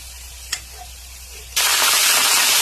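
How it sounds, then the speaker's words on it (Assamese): Carrots hit a hot pan where cauliflower has just fried for a mixed vegetable dish, bursting into a loud, sustained sizzling hiss after a quiet start with one sharp click. "এতিয়া আমি দিম গাজৰখিনি ধুনীয়াকৈ ফ্ৰাই কৰি ল'ব লাগিব"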